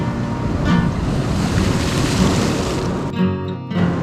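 Ocean waves rolling in against a rocky shore where someone is rock fishing, a loud continuous wash of surf with gusty wind buffeting the microphone and a brief dip near the end.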